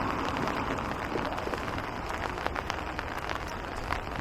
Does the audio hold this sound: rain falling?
yes